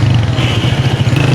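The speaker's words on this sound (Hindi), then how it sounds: "ये मैं फर्स्ट वाइफ के बेटे के साथ ज़रा निकली हूँ बाइक पे, तो हम जा रहे हैं मुंतहा।" A motorcycle carrying riders along a road drones steadily, a loud close engine hum with wind buffeting, brief and continuous without speech.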